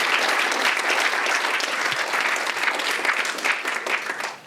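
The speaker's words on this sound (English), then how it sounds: "please keep on applauding" Audience applause after a scientific brain-research talk in Berlin: sustained, dense clapping from a full room, steady and loud throughout, fading slightly toward the end, with no voices over it.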